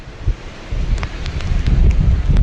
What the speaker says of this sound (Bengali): ভালোই ঝোড়ো হাওয়া দিচ্ছে।